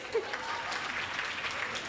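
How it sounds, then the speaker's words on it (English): Audience applause at a pharmacy and health care sciences oath taking ceremony, a brief steady patter of clapping that starts quickly and fills the short stretch. "Another round of applause."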